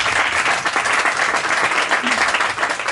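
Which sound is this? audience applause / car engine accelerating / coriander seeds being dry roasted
audience applause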